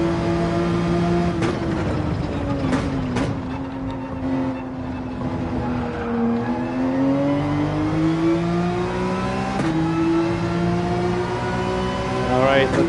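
A 911 in Gran Turismo 7 revs hard through the gears, its engine pitch repeatedly climbing and dropping with sharp shifts and a final high rev. A voice talks over the loud, continuous engine note.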